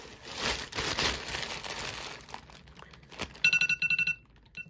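A crinkling rustle fades, then an electronic alarm starts beeping in rapid, evenly spaced pulses, fairly loud and near.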